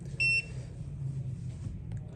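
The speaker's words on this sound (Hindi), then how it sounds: "बीप मोड आ गया" A digital multimeter in continuity mode gives one short, clear electronic beep near the start during a phone speaker repair, then a quiet low hum of the room continues.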